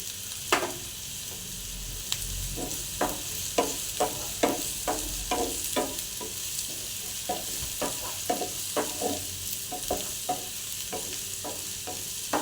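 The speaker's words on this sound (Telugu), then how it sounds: "ఆయిల్ గోల్డెన్ బ్రౌన్ వచ్చేంత వరకు ఫ్రై చేసుకోండి లో ఫ్లేమ్లో" Onions frying in oil over a low flame until golden brown, with a soft steady sizzle and a spatula knocking the pan in irregular, repeated strokes, close and without talk.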